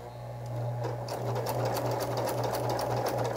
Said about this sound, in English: Okay, so let's sew this on.